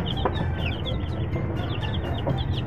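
Chicks of Raptor Roundhead gamefowl peep steadily, a busy chorus of thin high cheeps at close range over a low rumbling background, with no one talking.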